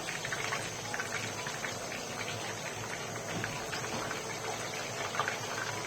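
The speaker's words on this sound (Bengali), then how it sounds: "চুলার আঁচটা লো মিডিয়াম করে ভেজে নিচ্ছি" Pieces of beef chap sizzling in a pan over low-medium heat, a steady bubbling crackle of frying fat, fairly soft and constant for the whole stretch.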